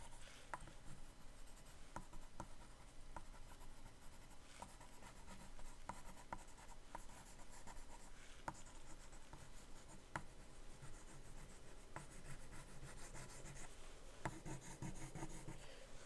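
A pen or pencil scratches and rubs across paper while drawing, in quiet, close strokes with short irregular pauses.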